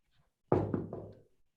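Knocking on a house door: three firm, close knocks in quick succession, resonant and woody, with a short ring-out after each and near-silence before and after.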